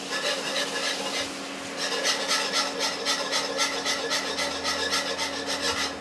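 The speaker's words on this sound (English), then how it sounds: "We want to come in with a whisk, and we're going to stir this." A whisk scrapes steadily around a pan of Brussels sprouts in mustard sauce over medium-high heat, making a continuous rhythmic rubbing and swishing that quickens halfway through, close and clear with no talk.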